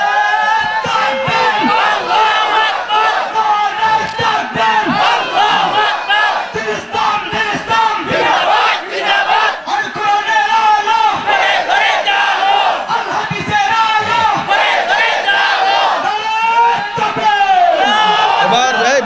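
A large crowd at a Bangla waz gathering in Sylhet chants the takbir "Allahu Akbar" together as people rise to their feet, loud massed voices in sustained rhythmic calls.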